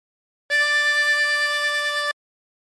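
A harmonica sounds one sustained draw note, pulled in through hole 8, steady and clear for about a second and a half with no talking.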